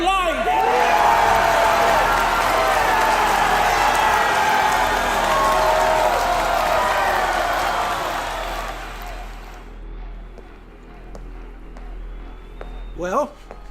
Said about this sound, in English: crowd sounded good, huh?